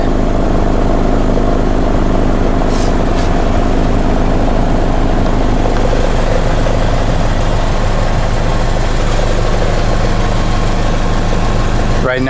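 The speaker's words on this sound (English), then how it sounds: "This is the sound at a warmed up idle." A warmed-up Toyota FRS fitted with a DC Sports catback exhaust idles in a loud, steady, low drone that stays even throughout, recorded close to the car.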